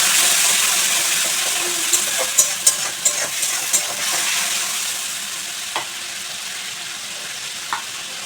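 Green chili paste masala fries with a splash of water for a light rui fish curry with ridge gourd and potato, a loud steady sizzle with scattered clicks of a spoon stirring in the pan.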